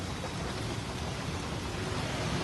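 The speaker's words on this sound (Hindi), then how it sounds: "पिछले 1 घंटे से बारिश हो रही है" Steady, dense rain pouring down at Minto Bridge in Delhi, an unbroken broadband hiss of falling water on surfaces with no voices and no variation in level.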